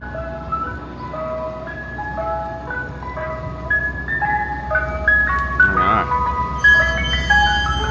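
Mister Softee ice cream truck playing its chiming jingle on a Philadelphia street, the melody repeating over steady traffic and engine rumble, with the truck passing at moderate distance and growing slightly louder toward the end.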